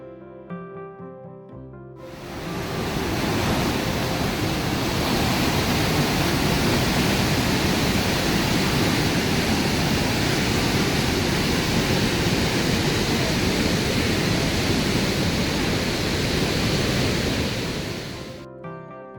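Roaring rush of the Upper Falls waterfall at its brink in Yellowstone National Park, a dense, steady broadband torrent that swells in after a quiet start, holds loud and unbroken, then cuts off near the end.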